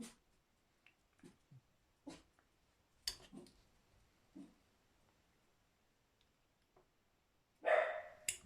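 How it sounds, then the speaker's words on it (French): Dogs let out a few scattered barks and yips, some distant and faint, with a louder, closer bark near the end, in a quiet room where a Tamiya TT-02B model car is being assembled. "les chiens vont se mettre à gueuler"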